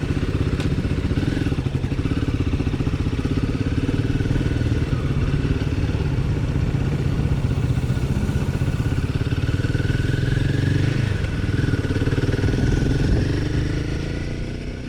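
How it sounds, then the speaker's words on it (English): Royal Enfield Himalayan adventure motorcycle engine heard from inside the rider's helmet during a test ride in Thailand, a steady muffled drone with a faint whiny edge and wind rush, continuous for the whole stretch and easing slightly at the end. "you only get a little bit of an idea of what the engine sounds like, but it does sound good"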